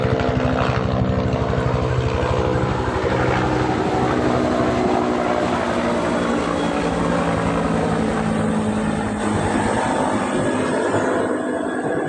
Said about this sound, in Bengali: আমাদের উপর দিয়ে একটা হেলিকপ্টার গেল, সেই জন্য আওয়াজটা আমরা বলতে পারতাছি না